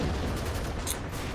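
Machine gun fire in the Vietnam war strategy game Campaign Series Vietnam, a dense continuous clatter of shots with a sharp crack near the end, loud and unbroken.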